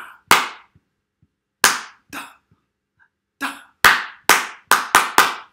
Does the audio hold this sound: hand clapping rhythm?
yes